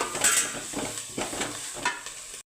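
Curry leaves fry in a pan, giving a bright, crackling sizzle with repeated scraping strokes from stirring, close by, before it cuts off abruptly.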